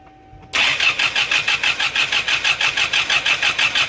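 After a brief near-silence, a Mopar car engine cranks without catching: a loud, close, even chugging of starter strokes, about four per second, that never settles into running.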